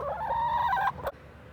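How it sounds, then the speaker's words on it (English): Chickens in a winter coop give a loud, close, drawn-out squawking cluck that cuts off abruptly, followed by a brief sharp clatter, with no talking. "our experience with having chickens is that they just yell at you"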